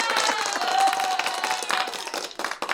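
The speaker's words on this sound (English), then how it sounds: "I know there's like an applause somewhere in here." Applause from a crowd in a played-back recording, a dense continuous patter of many hands clapping at moderate level, slightly uneven toward the end.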